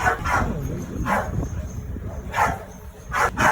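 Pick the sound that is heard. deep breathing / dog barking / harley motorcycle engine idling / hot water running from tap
dog barking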